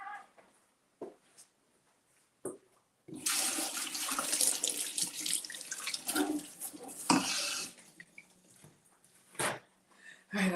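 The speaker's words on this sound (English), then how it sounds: "All right, so let me clean my hands." Hands being washed under a running tap in a kitchen, water splashing steadily for several seconds amid scattered clicks and household noises, with a brief quieter lull before and after.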